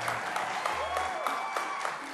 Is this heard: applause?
yes